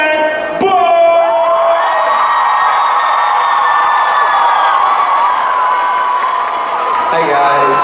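A convention audience at Heroes Dutch Comic Con cheers, whoops and shouts loudly for Ben Barnes, a sustained wall of crowd noise that tails off near the end.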